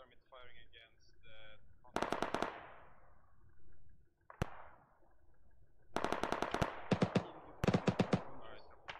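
Gunfire in the video game ARMA 3: loud bursts of rapid automatic fire and single sharp shots in quick succession, with brief voices near the start.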